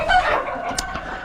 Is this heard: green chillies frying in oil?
no